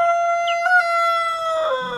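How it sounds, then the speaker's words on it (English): A young free-range homestead rooster, still finding his voice, gives one loud, close crow with a harsh, horn-like, sustained tone and no other sounds around it. "he sounded a bit more like a klaxon horn, but he's really starting to sound like a rooster"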